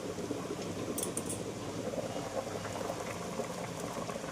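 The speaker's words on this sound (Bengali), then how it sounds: "মাছের ঝোল ফুটে গেছে" Fish curry broth with potatoes boils steadily in a covered pot, a dense, continuous bubbling that stays close and even for the full few seconds, with no voices over it.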